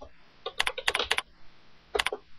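A computer keyboard is typed on in two short bursts of crisp, close clicks separated by a brief pause, with no one speaking.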